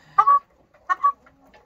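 A naked neck hen gives two close, clear clucks about a second apart, followed by a few softer murmuring notes in a quiet setting.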